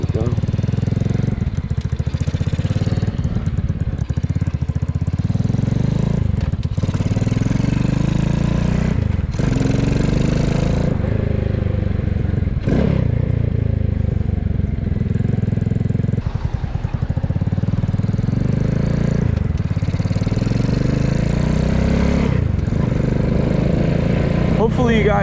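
A cheap Amazon cafe racer motorcycle with a 4-speed gearbox drones while riding, engine rising and dropping through gear changes under steady wind buffeting, with someone talking throughout.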